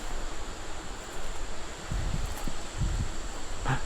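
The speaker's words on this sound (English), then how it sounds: "See? It is windy." Wind gusts across an open state park, buffeting the microphone with a constant rushing roar and occasional low thumps, along with faint rustling.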